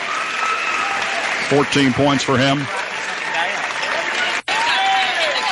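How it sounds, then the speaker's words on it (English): Basketball crowd applauding an injured player at a boys' regional championship game, a steady broad roar of clapping throughout, with a commentator's voice speaking briefly over it. "he'll get a big round of applause"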